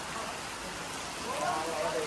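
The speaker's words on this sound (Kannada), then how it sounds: "ಭಾರಿ ಮಳೆ ಬರ್ತಾ ಇದೆ." Heavy rain pours in Sringeri as a dense, steady hiss of falling water, swelling slightly toward the end, with no talking.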